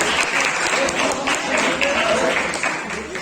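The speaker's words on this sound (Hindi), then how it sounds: "हमेशा पूरे जोरदार तालियां, तालियों में कंजूसी करो" A crowd at a Garhwal kirtan mandal and Ramlila committee awards and retirement ceremony claps loudly and steadily in honour of a former treasurer, a dense, sustained ovation filling the whole stretch.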